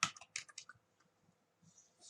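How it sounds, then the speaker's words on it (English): Keys on a computer keyboard are typed while entering a short web page greeting, a quick burst of close clicks followed by a pause and a few more taps, with no voices. "I am going to type here something like hello all"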